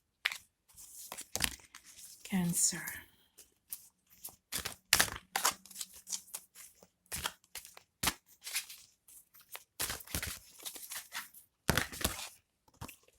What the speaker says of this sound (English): Let me just start the shuffling.